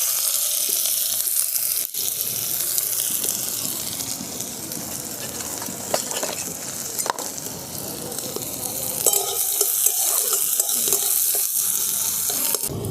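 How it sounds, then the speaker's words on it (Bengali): Sliced onions sizzle and crackle steadily in hot oil in a pan, a loud continuous frying hiss with occasional stirring scrapes and a brief knock near the start, no voices. "তেলটা গরম হয়ে গেছে, প্রথমে আমি দিয়ে দিচ্ছি পেঁয়াজ।"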